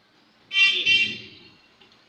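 An Android phone gives a single short, bright electronic tone followed by a softer buzzy tail when the screen is touched with TalkBack on, heard close and alone.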